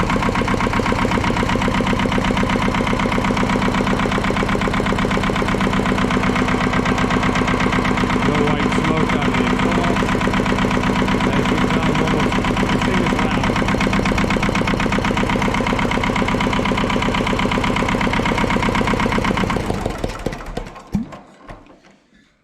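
Ford 1600 tractor engine running steadily and loud with added throttle for about twenty seconds, then cutting off and sputtering to a stop at the end.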